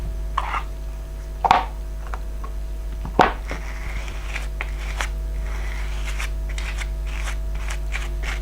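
Scissors cut leather pieces by hand for a simple tote bag, giving two sharp close snips followed by softer rustling and handling noises.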